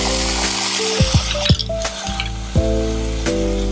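Yogurt poured onto fried onions in a hot pan, bursting into loud sizzling with sharp crackles and bubbling, spiking a few times as it is stirred in.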